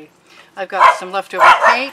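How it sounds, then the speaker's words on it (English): A dog barks a few times while a person speaks close by, the barks mixing with the voice. "you can hear him barking in the background"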